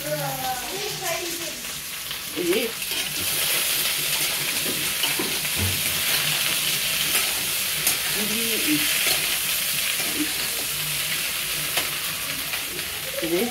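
A spoonful of garlic paste fries in a pan for a jackfruit seed cutlet, a steady sizzle with occasional stirring while a voice talks intermittently over it.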